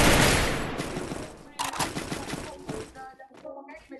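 Gunfire in a Vietnamese duo squad ranked battle-royale mobile game: a dense burst of rapid shots at the start fading over about a second, then scattered sharper bursts, with players talking over it.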